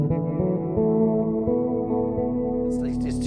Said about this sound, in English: I've set this loop up now, and I want to play over top of it, let's say, but I have too much reverb on.